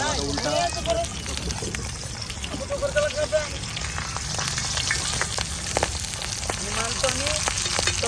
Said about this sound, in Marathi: तोपर्यंत दुसरा मासा इथे फ्राय होतो तो काढायचा